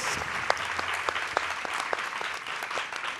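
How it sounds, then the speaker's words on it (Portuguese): An audience at a book fair talk applauds sign language interpreters, steady overlapping clapping from a crowd, moderately quiet and somewhat distant, with sharper individual claps standing out. "Quero agradecer e pedir palmas aos tradutores de Libras da Educa Libras."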